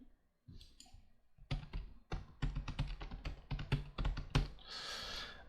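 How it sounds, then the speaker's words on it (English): Steady run of close, crisp keystrokes on a computer keyboard, irregular bursts of clicks with short pauses, ending in a brief soft rustle; no voices. "I should just type that out"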